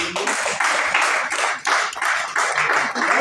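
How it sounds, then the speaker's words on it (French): An audience at a parents' seminar in Treichville claps in a steady round of applause, loud and close, lasting a few seconds with no talking. "Est-ce qu'on peut l'applaudir?"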